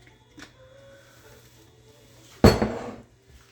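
Taco filling with olive oil, salt and cayenne being stirred in a pan: one sharp, loud metallic clatter of a utensil against the pan, trailing off over half a second amid a quiet kitchen.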